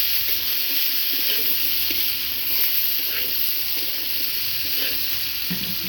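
Potatoes sizzling in hot oil in a pan, a steady bright frying hiss throughout with faint stirring and scraping underneath, close and continuous.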